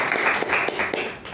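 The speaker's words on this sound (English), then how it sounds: "Great round of applause for him." A Toastmasters meeting audience claps together in a brief, dense burst of applause that fades toward the end.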